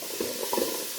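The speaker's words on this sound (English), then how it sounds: "I've got those 2 apples that I diced, and you hear them sizzle." Diced apples sizzle in a Ninja Speedi on the sear setting at level 4: a steady close frying hiss with soft stirring bumps, brief and fairly even.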